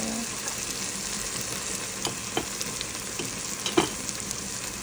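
Spices sizzle in a pan for a chicken curry with bottle gourd, a steady close frying hiss broken by a few soft scrapes of a spoon stirring.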